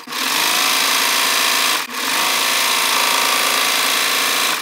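A sewing machine stitches the side seams of high-waisted wide-leg trousers, a loud, close, steady rapid whir that breaks off for an instant and then resumes running continuously.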